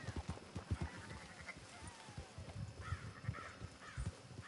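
Sheep bleat in the Red Dead Redemption 2 video game, with several overlapping, wavering calls from a flock at moderate distance, quiet and steady over a low rumbling background.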